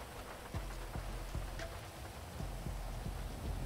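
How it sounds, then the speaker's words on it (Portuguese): Steady rain pours in GTA 5, a dense continuous hiss of drops on the ground with several soft thumping impacts mixed in, all at a moderate, even level. "Não era nem pra tá tomando essa chuva"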